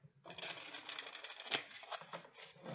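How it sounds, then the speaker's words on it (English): A deck of holographic-edged oracle cards being riffle-shuffled, a dense papery flutter of rapid card clicks running for almost three seconds, close and fairly loud with one sharper snap midway. "It really seems to shuffle well."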